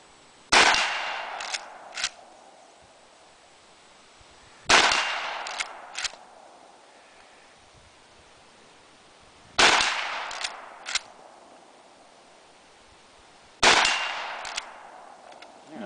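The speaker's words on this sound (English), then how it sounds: "that's five rounds out of the 94 Winchester" Five shots from a Model 94 Winchester lever-action rifle fired outdoors, each a loud sharp crack with a trailing echo, spaced several seconds apart with lever-action clacks between them.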